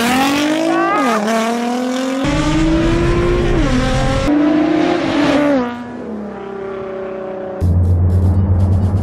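A Nissan GT-R R35 and a Honda CBR1000 motorcycle accelerate hard in a drag race, loud engines climbing through gear after gear with sharp shifts, and the pitch drops near the end as they pass.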